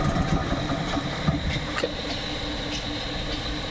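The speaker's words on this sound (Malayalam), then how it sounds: "മോട്ടോർ വർക്കിംഗ് ആണ്, സൗണ്ട് കേൾക്കുന്നുണ്ട്." A motor runs steadily at night during a fishing outing, a continuous mid-pitched engine hum with faint clicks and rattles and no talking.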